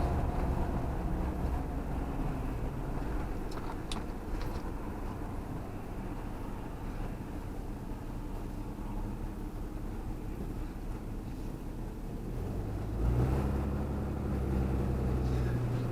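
A car drives down an on-ramp onto a California freeway, giving a steady interior road roar and engine drone that swells briefly near the end, with no talking.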